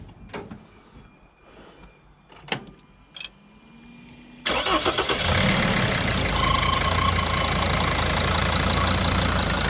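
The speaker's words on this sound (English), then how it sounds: "So that little noise you heard, that's water in the belt." A car engine cranks and starts after a radiator flush, then idles loudly and steadily, with a faint squeal from water on the drive belt sounding over the running engine.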